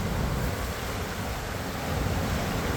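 High water crashing over a dam on the Fox River, a steady, loud, full roar of rushing water with no break, heard alone.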